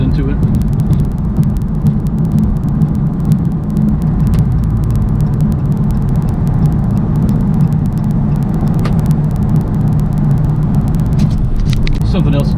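A 2016 Dodge Charger Scat Pack rolls over a bumpy road, heard from inside as a loud, steady rumble of engine and tires, with jolts and knocks throughout and a voice talking over it.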